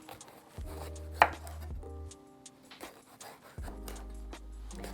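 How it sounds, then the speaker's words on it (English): A knife cuts through a red pepper on a cutting board, a few distinct thuds and crisp slices spaced irregularly, close and clear in a quiet kitchen with faint background hum. "Now I'm going to cut up my red pepper."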